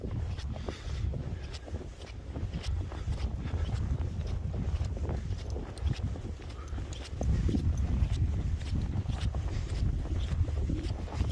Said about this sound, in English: Bit of a wind now, and it's definitely a north wind